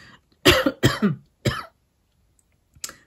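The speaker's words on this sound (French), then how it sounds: "ouais, ça me fait tousser" Three or four harsh coughs in a quick cluster, close and fairly loud, then a pause and one fainter short cough at the end.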